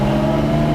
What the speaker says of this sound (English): the engine is pulling cleanly from no revs to speak of